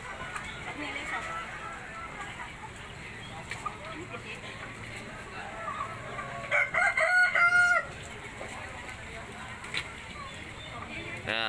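A rooster crows loudly and close at a busy Indonesian wet market, a single crow with clucking fowl around it, heard under steady talk from a person shopping.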